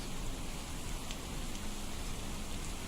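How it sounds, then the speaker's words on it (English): Steady, even rain from a Skyrim mod, a soft constant hiss without gusts or distinct drops. "it sounds like rain, that I would record off the back balcony of my house"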